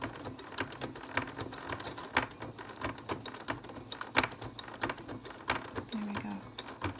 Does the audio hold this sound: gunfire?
no